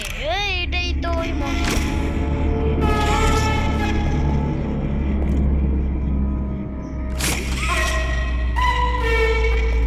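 A train in the horror video game Poppy Playtime Chapter 2 gives a low, heavy rumble with loud tonal horn-like blasts near the start and again later, while a player talks over it.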